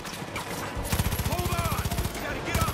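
Rapid automatic gunfire from the video game Far Cry 5, a steady fast rattle of shots over continuous game background noise, loud and close.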